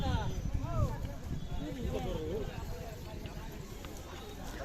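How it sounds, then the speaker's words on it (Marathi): Bullock carts carrying pilgrims from Junnar taluka toward Jejuri roll along with rhythmic clip-clop hoofbeats, heard outdoors under people talking and crowd noise. "बऱ्याचशा बैलगाड्या आहेत"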